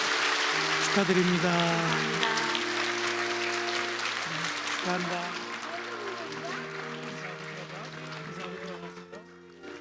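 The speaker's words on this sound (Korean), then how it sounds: "우리 새 생명 박수로 축복하시겠습니다." Church congregation applauding during a Sunday worship service to bless a newborn, sustained clapping that gradually thins out, with people speaking over it.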